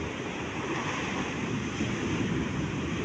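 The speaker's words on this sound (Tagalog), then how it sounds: "makikita na po natin ang lakas ng alon po" Strong sea waves driven by a typhoon along the coast at Dinadyawan, Aurora, a continuous roaring wash of surf with wind buffeting the microphone, steady and unbroken for a few seconds.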